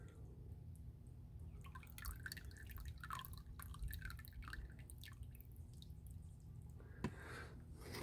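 Liquid from a gold refining batch being poured off, heard as a quiet run of drips and light splashing over a steady low hum, with a sharper splash near the end.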